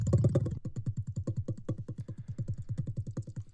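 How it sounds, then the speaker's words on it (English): Short pitched puffs of breath from lips blown into a glass jar, looped at several pitches into a game sound effect for the Riftspark, pulsing in a rapid, steady stutter of soft thumps with no talk. "So this is actually the sound of the Riftspark when it's in use."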